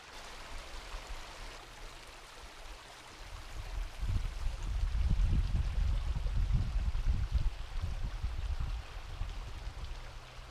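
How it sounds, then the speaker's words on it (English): A small creek flows beside snow-covered ground with a steady, low, continuous burble, the water growing fuller and louder partway through before easing slightly. "just right off to the side of it is a little creek"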